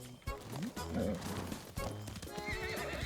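Horses in the video game Ghost of Tsushima, hooves clip-clopping at a gallop while a horse neighs and whinnies, loud and close over a busy game soundscape.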